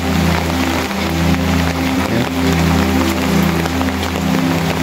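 Steady downpour over a village in Chandpur, Bangladesh, with water pooling in front of the houses: a dense, unbroken hiss that holds at a constant level, with a low droning hum running underneath and no voices.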